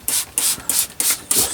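A hand spray bottle mists a dawn redwood bonsai outdoors: five short, sharp hissing spritzes at an even rhythm, close and fairly loud, with no talking.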